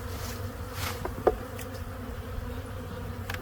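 Honey bees buzz steadily at an opened hive while the beekeeper lifts off a box, a dense continuous drone with faint handling knocks and one sharp tap partway through.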